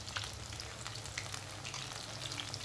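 Onion and potato pakoras fry in hot oil with a steady, soft sizzle and scattered crackling pops, close by and quiet, with no talk.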